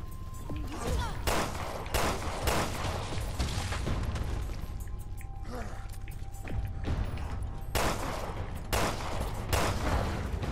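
Repeated bursts of gunfire in the video game Resident Evil Revelations 2, several loud shots spaced across the clip with game noise and a voice talking in between.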